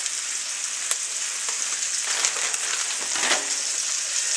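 Chicken breasts laid breast side down in a hot pan for Cajun chicken fettuccine, giving a steady close sizzle and crackle with a few brief sharper pops, no talking.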